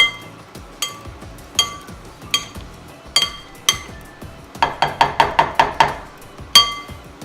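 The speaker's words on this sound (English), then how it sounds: "We're just going to mash this up." Hot food being mashed in a pan with a utensil, giving repeated clinking knocks against the metal, spaced out at first and then a quick run of rhythmic strikes, close and fairly loud.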